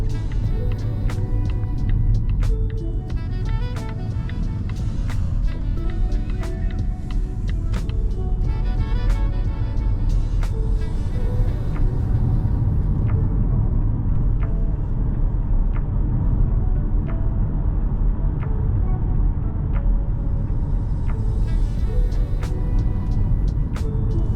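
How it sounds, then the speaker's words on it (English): A 2021 Volvo V60 T6 AWD Recharge plug-in hybrid with a 340 hp 2.0-litre inline four, driving through a forest: steady low road rumble and tyre noise from inside the cabin, with occasional light clicks and ticks. "let's go into hybrid and take a drive through the forest."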